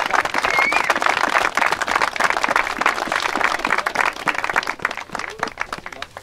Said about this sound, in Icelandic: Þetta voru gott klapp.